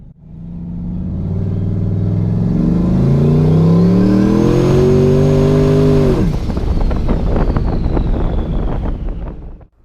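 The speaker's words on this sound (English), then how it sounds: "I punched it there in second gear to the floor, and it did spin a tiny bit" Turbocharged Chevrolet Colorado pickup with an S480 turbo, floored in second gear on street radial tires, its engine roaring up in pitch with a rising turbo whine, then a gear change and continued loud pull amid wind buffeting.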